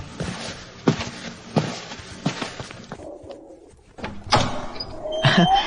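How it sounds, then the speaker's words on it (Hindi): Staged horror-story effects: several footsteps approach at an even pace, followed by a door being unlatched and creaking open with a few knocks and thuds, close and clear with no talk. "उसने थोड़ी हिम्मत जुटाई और दरवाजा खोलने के लिए आगे बढ़ी"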